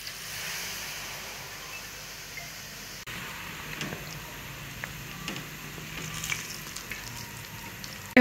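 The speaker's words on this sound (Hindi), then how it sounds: "ये भी हम इसी तरीके से कोट करके फ्राई करेंगे।" Boiled eggs coated in batter frying in hot oil, a soft steady sizzle with a few faint crackles and light clinks near the end, close and without talk.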